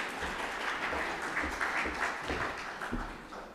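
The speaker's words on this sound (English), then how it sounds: "I'd like to have a warm applause for him" Warm applause from a conference audience at an investor forum plenary session, a dense moderate wash of clapping that stays fairly even and tapers slightly at the end, with no talking.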